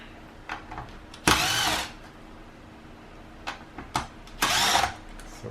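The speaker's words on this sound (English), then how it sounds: "So let's open this cover and see what we can get." A power screwdriver whirs in two short bursts while screws are removed from the back cover of a broken Samsung TV, with scattered clicks and handling knocks between them, close and loud with no talk.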